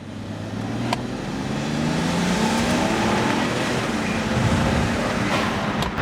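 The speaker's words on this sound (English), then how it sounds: "you just feel the whole car lift with the power as it starts building up the boost." A BMW 335i wagon with a swapped N54 engine accelerating under boost, engine note rising steadily as it pulls hard, loud and sustained from inside the car, with no talking.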